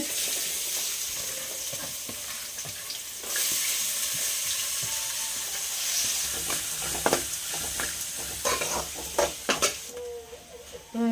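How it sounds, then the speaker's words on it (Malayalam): Chopped onion and cashews fry in a pan with a continuous close sizzle that grows louder partway through, followed by stirring scrapes and clinks toward the end. "കുറച്ച് കശുവണ്ടി പരിപ്പ് അപ്പോൾ ഞാനൊരു സവാള അരിഞ്ഞത് ചേർക്കുകയാണ്"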